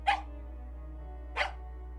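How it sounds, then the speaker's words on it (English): Two loud, sharp dog barks in the Tiny Bunny video game, one at the start and another about a second later, over a steady low hum with no talk. "With a loud bark."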